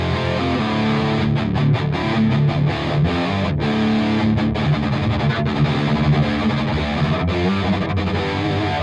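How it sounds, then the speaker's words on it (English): An electric guitar plays through an Archetype Rabea crunch amp with the gain turned all the way up, a steady loud distorted tone with chugging, rhythmic picking throughout. "Let's crank the gain up on this crunch amp."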